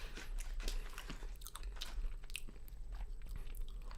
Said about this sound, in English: The wonderful sound of crunch.